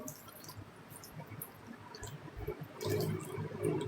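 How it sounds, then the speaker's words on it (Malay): Water poured into a cooking pan holding tempeh, a soft liquid splash and trickle that grows louder toward the end, with some faint clatter, and no talking. "Masukkan air."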